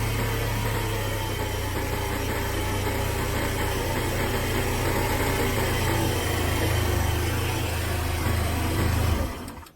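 Small X-pro moped engine idles steadily and loudly after a carburetor set screw adjustment, a constant buzzing drone close to the microphone that runs for nearly ten seconds before abruptly cutting out.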